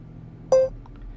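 A single short electronic voice-command beep in a 2015 Jeep Grand Cherokee Summit, clear and steady for a moment, over a low background hum.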